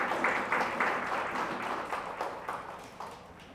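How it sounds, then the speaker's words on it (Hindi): Church congregation clapping together in a steady burst of applause, dense and fairly loud, fading slightly toward the end with no voices over it. "हम जोरदार ताली से खुदावन यीशु मसीह को धन्यवाद करते हैं।"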